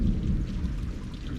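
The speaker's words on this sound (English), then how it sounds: "enjoy the thunder and the lightning." Thunder rolls as a low, continuous rumble under a steady hiss of falling rain.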